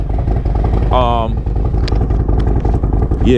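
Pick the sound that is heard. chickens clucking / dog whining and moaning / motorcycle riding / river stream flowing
motorcycle riding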